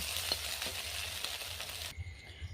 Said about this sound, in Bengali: এবারে আমি চাউমিনটা ভেজে নেব।